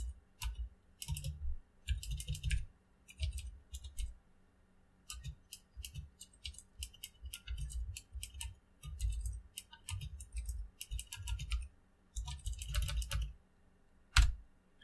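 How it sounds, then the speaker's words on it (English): Paragraph being typed on a computer keyboard, with bursts of rapid close key clicks separated by short pauses and a louder final keystroke, no talking. "I can type something like this."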